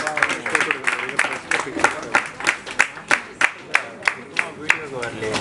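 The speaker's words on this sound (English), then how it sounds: "Round of applause" Audience applause at a book launch as the book is unwrapped and released: a room of scattered, uneven hand claps at moderate distance, with voices talking and murmuring over the clapping.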